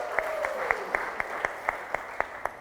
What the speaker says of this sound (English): put your hands together in a round of applause as we congratulate the Media Challenge Fellowship Program Class of 2020